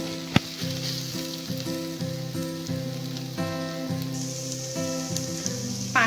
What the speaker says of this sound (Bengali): প্রায় 4-5 মিনিট আমি শাকটাকে এভাবে ভেজে নেব।